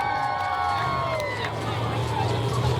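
A crowd cheers and roars steadily at a 2020 monster truck show in Dinwiddie, Virginia. The noise is dense and continuous, with a voice and tonal sounds carrying over it.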